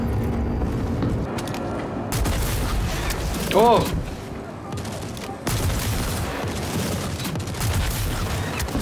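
Electron Bolt sniper rifle firing electrified shots in the game Star Citizen, heavy booming blasts and crackling discharges in bursts separated by brief lulls, with a man exclaiming once over the gunfire.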